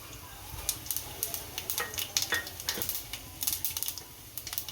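Asafoetida and cumin seeds crackle and sizzle in hot oil in a home kitchen pan, a dense run of sharp, close pops and spits over a soft steady hiss, with no talking.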